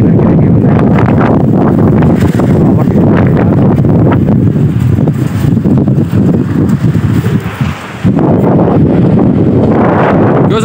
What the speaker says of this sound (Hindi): कैसी हवा चल रही था?